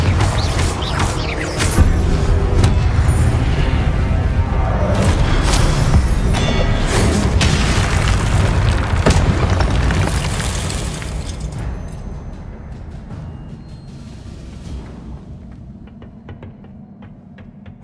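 Fire and blasting spells from Hogwarts Legacy, Incendio and Confringo, erupt in a loud, dense run of bursts and crackling booms over a rumbling low end, fading into quieter sparse ticks toward the end.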